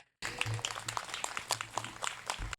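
Crowd at an outdoor community unity walk applauding, a short burst of scattered claps with a few voices mixed in, fairly close and lively.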